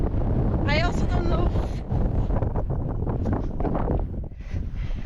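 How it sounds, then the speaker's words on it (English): Strong wind buffets the microphone while riding an offroad motorbike on Gozo, a loud continuous low rumble and roar with gusty surges, a person's voice briefly mixed in. "I'm feeling quite unsafe with the wind"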